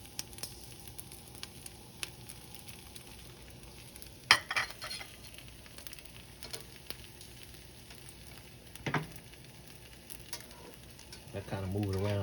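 A single egg fries in butter in a pan for a pork roll, egg and cheese breakfast sandwich, giving a low steady sizzle with a couple of sharp scrapes as the egg is moved around.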